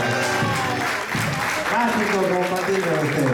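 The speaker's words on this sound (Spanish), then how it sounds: "Roque Torres, de los pagos de Orán, fuerte los aplausos." Audience applause at a birthday celebration with live music, steady clapping throughout under a host's amplified voice and background chatter.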